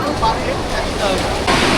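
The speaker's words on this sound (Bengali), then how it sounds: "এই দেখুন ঢেউগুলো কি সুন্দর" Sea waves at Puri beach roar as a dense, steady wash of surf, loud and close, mixed with outdoor wind noise along the shore.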